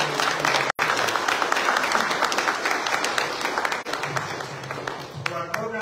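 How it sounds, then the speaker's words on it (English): Sustained audience applause at a community event, a dense wash of clapping that stays loud for several seconds, with a brief dropout early on and scattered cheers and voices near the end. "Can we have a round of applause for Mary?"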